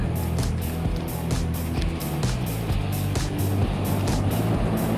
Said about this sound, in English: Traffic is heavy